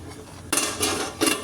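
A metal lid clanks onto a pot of taro roots with a couple of sharp, close rattling knocks, one at the start and another a beat later, against a quiet kitchen background.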